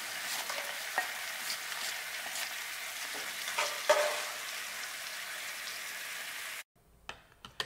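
Bacon sizzles and crackles steadily in a hot pan, with scattered pops over a constant frying hiss, then cuts to near silence near the end.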